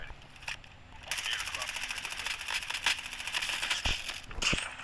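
Rapid bursts of gunfire from a QQ3 gun in the Call of Duty Mobile video game crackle in quick repeated volleys, moderately loud, with a few brief pauses between bursts.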